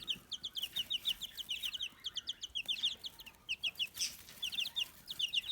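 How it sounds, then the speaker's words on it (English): Several hens on a small farm cluck in quick, repeated bursts, a fairly close but soft chorus of short notes continuing throughout. "we have some other chickens in here"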